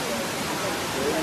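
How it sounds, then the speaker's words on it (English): A steady rushing roar of falling water fills the scene, broad and constant, with faint voices murmuring underneath. "There's the waterfall right here."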